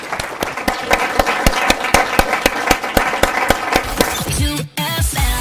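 A panel audience at an RTÉ Choice Music Prize conversation gives a steady round of applause, dense rapid clapping throughout that cuts off abruptly near the end as music begins.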